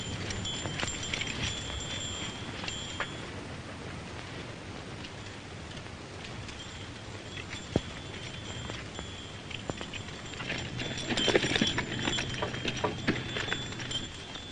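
Hooves clip-clop faintly against a steady hiss of outdoor ambience, with a few sharp knocks and a louder rustling stretch near the end.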